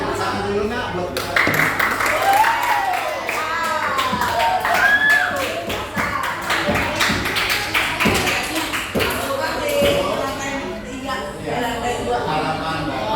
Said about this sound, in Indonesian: tepuk tangan dulu Nak buat kita